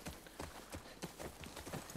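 Horse hooves clip-clop in The Last of Us Part II, a quick, even run of distinct hoofbeats at moderate distance, fairly quiet, with no talking over them.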